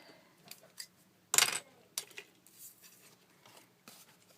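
Scissors cutting out paper for a small handmade art journal: a few sparse snips and rustles, with one louder crisp cut near the middle, close and quiet, with no talk.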